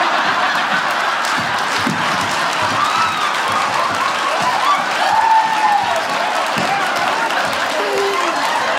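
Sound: comedy audience applause

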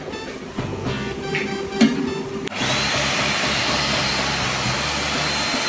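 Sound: electric hand dryer in a restroom

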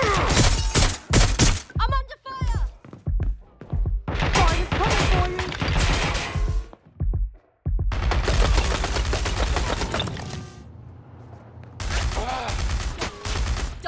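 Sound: exploding spider explosion from the video game Watch Dogs: Legion

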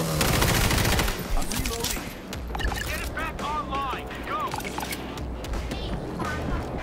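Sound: gunfire shooting at zombies in video game World War Z

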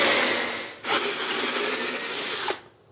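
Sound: power drill drilling a pilot hole

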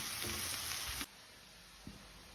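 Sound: stirring mushrooms and onions frying in a pan

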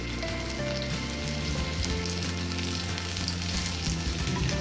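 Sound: bread rolls dipped in egg and flakes frying in oil

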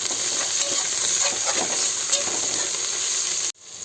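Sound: sautéing mint and coriander leaves in a pan

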